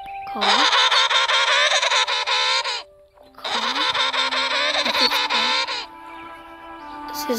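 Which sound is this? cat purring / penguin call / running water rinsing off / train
penguin call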